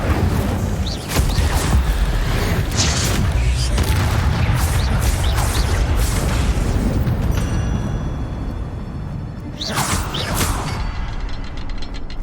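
Incendio fire spell in Hogwarts Legacy, a sustained loud roaring, crackling burst of flame and rumble that fills the scene, fading briefly before a second sharp flare and softer mechanical clinks.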